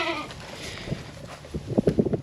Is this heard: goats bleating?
yes